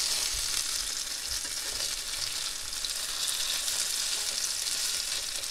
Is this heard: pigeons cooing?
no